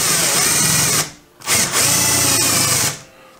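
A small metal drill bit bores into wood while building a spice rack, with two loud bursts of whining drilling broken by a short pause.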